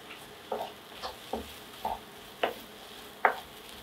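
Mushroom pepper fry with curry leaves and coriander sizzles in a pan under a soft, steady hiss, while about six spaced spatula scrapes and stirs sound up close, with no talking.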